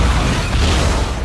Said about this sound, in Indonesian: ketika bom tersebut meledak, lalu Jacob dan Tibet mulai menyerang